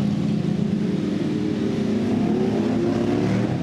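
A moped engine drones loudly and close at a steady pitch in Nieuw Bergen, a continuous buzzing roar that barely rises or falls, with no voices over it.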